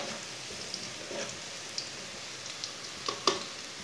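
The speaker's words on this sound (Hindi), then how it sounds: "प्याज को हल्का सा ब्राउन कर लेंगे।" Onions frying to half brown in a pan for a spinach and masoor dal dish, a faint, steady sizzle broken by scattered small pops and crackles.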